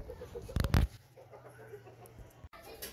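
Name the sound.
rooster clucking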